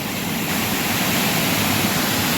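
Kudaganaru waterfall in Tamil Nadu, India, a dense, loud, continuous roar of rushing water heard close up with no voices.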